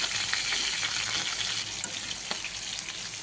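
Ginger with salt and turmeric fries in hot oil in a pan, a continuous close crackling sizzle with small pops and occasional stirring scrapes, and no talk.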